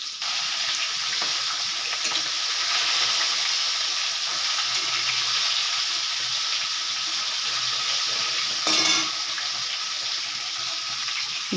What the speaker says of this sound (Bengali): এবারে আমি মাছগুলো দিয়ে ভেজে নেব।